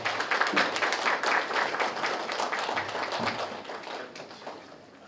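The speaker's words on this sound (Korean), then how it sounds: "큰 박수로 환영 부탁드리겠습니다." An audience at a Korean high school teachers' training session in Daejeon applauds to welcome a lecturer, with thick, crackling clapping that starts strong and gradually thins and fades over five seconds.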